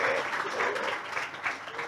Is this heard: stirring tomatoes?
no